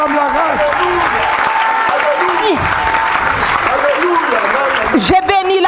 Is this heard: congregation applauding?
yes